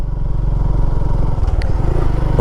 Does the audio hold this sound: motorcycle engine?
yes